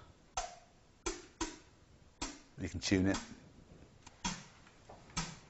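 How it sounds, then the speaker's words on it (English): Short, hissy synthesized snare hits made from white noise sound a few times at uneven intervals, with someone speaking briefly between them. "a very simple drum sound would just be to add some white noise"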